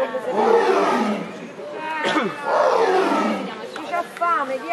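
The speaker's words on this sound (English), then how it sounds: "this is a tiger." A tiger gives two long, loud, rough roars that rise and fall close by, followed by a shorter growling call.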